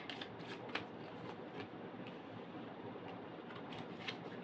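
Tarot cards shuffled by hand in a steady, continuous riffling rustle with a few sharper snaps, close and moderately loud, with no voice over it.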